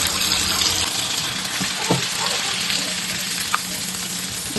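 Mutta surka egg batter frying in hot oil, a loud, continuous close-up sizzle with a faint watery gushing texture and a couple of small pops, with no talking.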